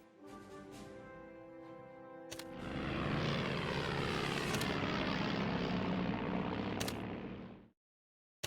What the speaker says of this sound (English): An airstrike sends bombers to drop bombs on the enemy.